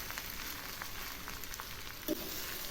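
Vegetarian fried rice stirred in a pan, a constant soft sizzle with faint scraping strokes and one brief knock near the end, quiet and close with no talking.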